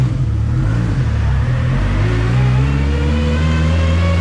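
Loud, sustained roar of a car engine revving hard for a tire burnout, close by, with a steady rising engine drone and no pauses.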